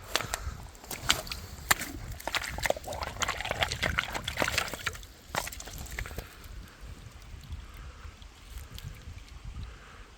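An agate stone is rinsed and swished in water on a Scottish beach at Balmerino, giving a faint, busy trickle of splashes and dribbles with light clicks, close by against soft outdoor background.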